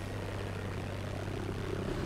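Propeller airplane engine in a first-person shooter game, a steady droning hum with a low buzzing pitch that holds evenly throughout, moderately loud and without talk.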